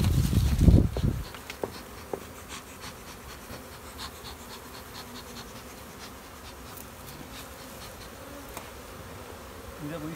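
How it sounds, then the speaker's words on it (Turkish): Honeybees buzzing around hives during queen rearing, a dense steady hum of many bees close by, with a brief louder handling rustle at the start and sporadic sharper buzzes as individual bees pass near. "Çünkü her taraf arı."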